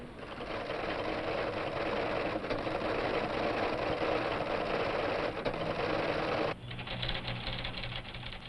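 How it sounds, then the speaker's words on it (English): Punched tape machine reprinting a library catalogue, a rapid mechanical rattling and clattering that runs steadily and loud, then shifts to a thinner, lighter chatter near the end; no voices. "When the time comes to reprint the catalogue, the tapes can rattle it off all by themselves."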